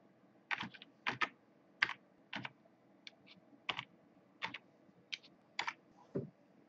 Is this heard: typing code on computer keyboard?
yes